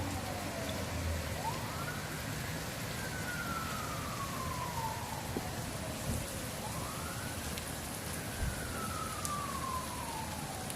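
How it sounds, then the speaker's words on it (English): Wailing emergency vehicle sirens sweep up and down in slow cycles, moderately distant, under steady heavy rain and wind during a strong Northern California storm. "There's more sirens right now."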